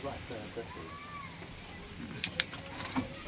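Punjabi Malwahi pigeons coo softly in their loft while someone talks nearby, with a few sharp clicks and light knocks toward the end.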